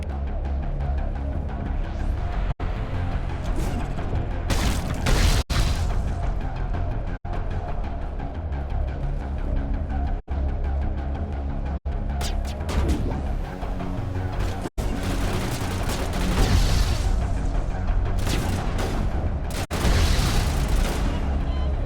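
Grenade explosions boom repeatedly in Mass Effect, heavy low bursts landing every few seconds over dense continuous battle noise. The clip is loud and busy, and a voice may be talking underneath.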